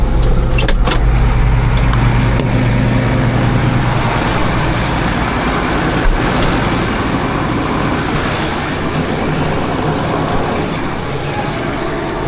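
Tractor driving a forage chopper for chopping third-crop hay, a loud steady low engine drone with heavy mechanical roar as the machine comes up to speed, continuous and close.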